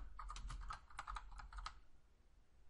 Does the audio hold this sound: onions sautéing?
no